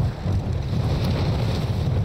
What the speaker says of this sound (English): I know, but the engine was on